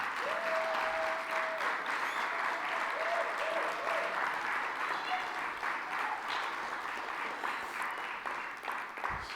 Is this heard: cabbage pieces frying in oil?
no